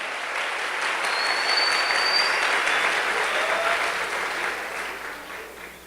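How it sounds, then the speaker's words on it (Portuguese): A church congregation claps together during a Portuguese-language worship service, dense sustained applause swelling in the middle and tapering toward the end, with a faint high tone drifting over it. "Pode aplaudir a Jesus."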